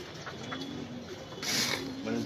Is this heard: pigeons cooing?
yes